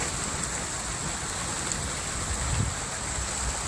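Heavy thunderstorm downpour in Rhône-Alpes, a dense constant hiss of rain hammering surfaces, steady and fairly close with no pauses and no voices.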